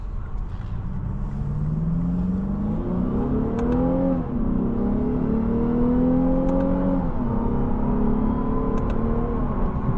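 A car engine revs and accelerates continuously, its pitch climbing in steady sweeps with a throaty rumble, loud and close.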